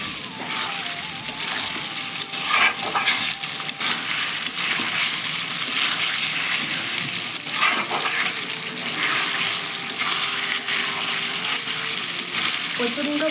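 Potatoes stirred into a Bengali red meat curry frying in oil, a steady loud sizzle with repeated scraping and clattering stirs throughout, a voice occasionally underneath.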